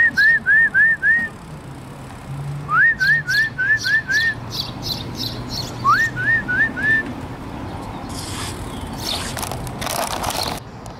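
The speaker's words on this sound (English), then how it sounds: "Oh, the birds are out." Songbirds outdoors give repeated rising whistled phrases in three bursts over steady background ambience, with brief crackly noises near the end.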